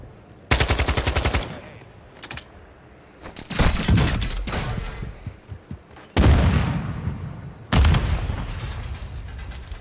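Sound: gunfire in the video game Warzone

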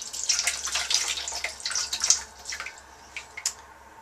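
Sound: glaze being poured onto a thrown ceramic vase

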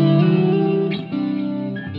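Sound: electric guitar through Dr Z Route 66 amp model on Helix

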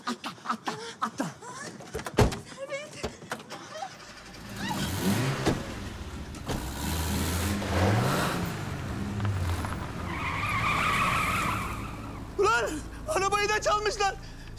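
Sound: stolen car engine driving away

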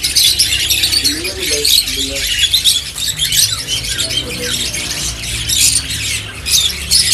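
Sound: pet birds squawking at a bird market shop

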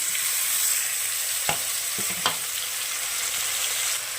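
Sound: stuffed masala eggplants frying and being stirred in pan

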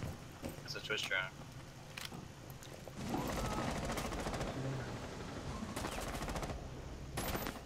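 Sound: gunfire in the video game Rainbow Six Siege

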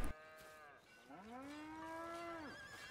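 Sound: cows mooing in the video game Red Dead Redemption 2

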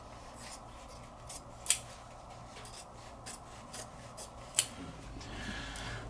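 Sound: cutting off excess suit canvas

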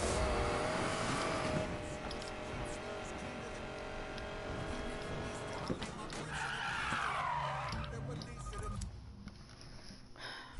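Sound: Ford Mustang car engine with nitrous, Need for Speed Payback video game

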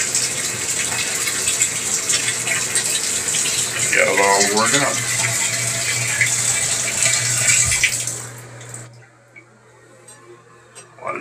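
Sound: hot water running from tub faucet into drain

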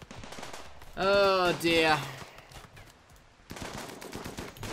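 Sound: gunfire in RimWorld video game

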